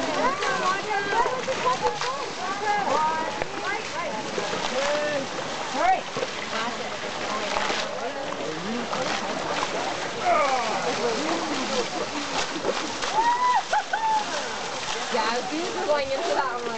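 Water splashing and spraying while elephants are bathed in Chiang Mai, with irregular sloshing bursts running throughout, close and fairly loud, mixed with people talking.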